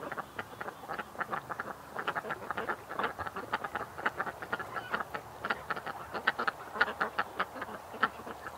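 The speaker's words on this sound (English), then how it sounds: "There is a pretty duck, guys. There's so many pretty ones." Many ducks, including a blonde one, quack in a busy, overlapping chorus of repeated calls at close range throughout, with no talking.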